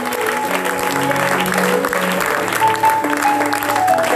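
A church congregation claps and cheers loudly for God, a dense, sustained wash of applause with voices shouting over it throughout.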